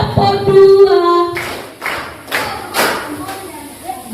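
Children at a storytelling session play a counting clap game: a voice calls out first, then a few loud group claps follow, spaced out in a simple pattern.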